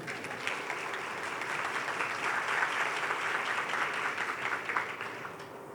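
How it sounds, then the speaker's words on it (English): Audience at a book fair talk clapping their hands together, a sustained, even round of applause from a large room, swelling slightly midway before tapering. "If you feel it's right, can you just clap your hands?"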